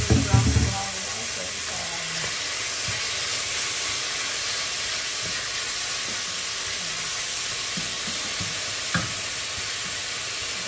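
Pork belly sizzling in a hot pan, starting with a loud burst as the meat drops in, then settling into a steady close hiss and crackle with occasional stirring knocks and a brief clatter near the end.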